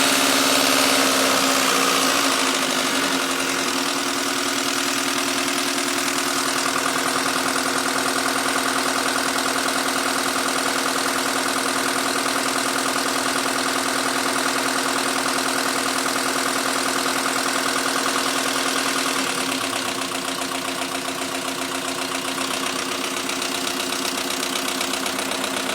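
A 450G dozer diesel engine idles steadily for a long stretch, close and loud, with a constant low droning hum and no talking.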